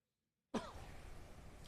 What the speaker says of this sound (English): I didn't mean to like cough as soon as you said that